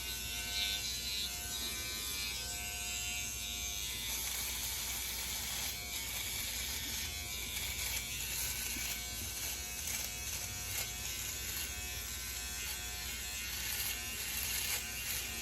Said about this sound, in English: this device, you really have to shave for optimal performance. You have to shave against the grain